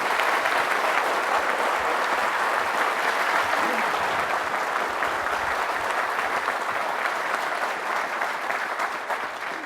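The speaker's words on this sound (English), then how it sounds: "So one more quick round of applause for those devil dogs." Audience at a presidential birthday celebration applauding Marines, a dense, loud, sustained roar of many hands clapping at once, even and continuous, with a slight fade near the end.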